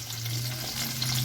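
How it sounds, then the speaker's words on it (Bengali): Capsicum frying lightly in a pan, with a steady, even sizzle and soft crackle running close and continuous for the whole moment, with a low hum beneath and no voices. "ক্যাপসিকামগুলো একদমই হালকা ভাজবো।"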